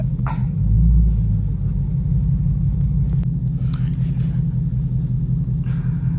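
A car idling nearby with a steady low engine rumble while it is parked, holding constant throughout with faint incidental clicks and knocks; a voice talks briefly at the start.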